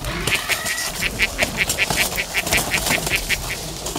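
A steady run of rhythmic quacks from ducks, evenly spaced and fairly close, over a noisy outdoor background.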